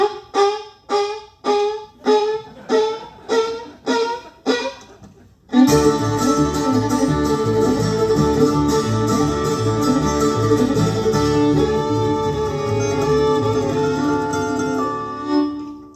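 About nine rhythmic, high yelping squeals in quick succession, imitating a hound, then a loud burst of full bluegrass band music takes over on stage.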